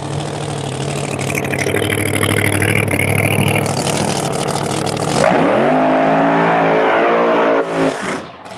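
A Pro Extreme drag race car, a loud close engine held at a rough high idle, then a sharp rev and a rising roar that cuts off abruptly near the end.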